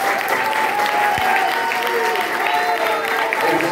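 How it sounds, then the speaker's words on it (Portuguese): A church congregation claps loudly and continuously through the whole stretch, steady dense applause with voices and cheering mixed underneath. "Nós podemos liberar as nossas mãos e darmos a Deus a melhor salva de palmas."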